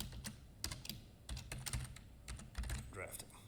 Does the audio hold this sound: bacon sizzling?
no